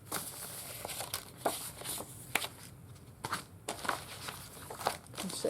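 Papers of different shapes, along with plate illustrations and fabric, being handled and crinkled close up, with irregular rustles and sharp crackling bursts in an uneven rhythm and no talking.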